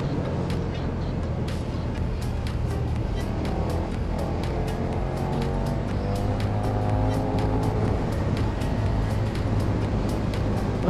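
A 2021 KTM 1290 Super Duke R motorcycle engine on the move at light throttle, a loud, steady drone whose pitch drifts slowly, with wind rushing over it throughout.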